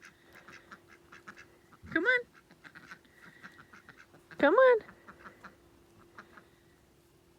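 Ducks being herded to bed at night give two loud, close bursts of quacking amid a quiet background, while a person calls to them between the calls.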